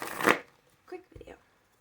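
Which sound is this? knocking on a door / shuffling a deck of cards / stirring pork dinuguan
shuffling a deck of cards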